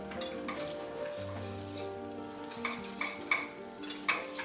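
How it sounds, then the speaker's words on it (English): Roux for chicken pot pie being whisked in a pan, a soft sizzle with rhythmic whisk scrapes and light metal clinks growing sharper toward the end, heard close with no talk. "But you gotta use a whisk, it's the only way."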